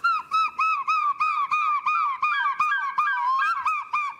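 A human voice imitates a seagull's call, repeating a series of nasal, honking cries in a steady rhythm, close and loud, with brief gaps between calls.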